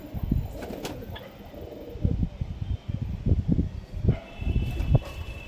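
Desi high-flyer pigeons for sale in Nabadwip coo in repeated low, throaty pulses, several bursts close together near the birds, with light rustling and a faint fan-like hum behind.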